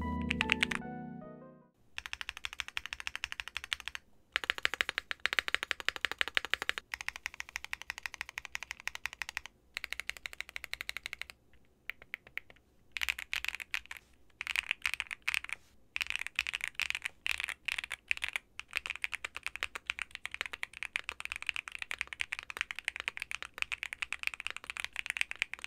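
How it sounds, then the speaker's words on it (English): Typing on a Weikav Sugar65 aluminum keyboard with pre-lubed Akko switches, steady close-up bursts of rapid clacky keystrokes broken by short pauses, with no talking. "And now let's get into the sound test."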